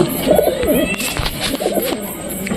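Pigeons cooing inside a loft at night, a close, loud series of throaty rolling coos repeating in quick succession with a faint background hiss.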